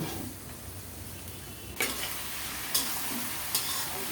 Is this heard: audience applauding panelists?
no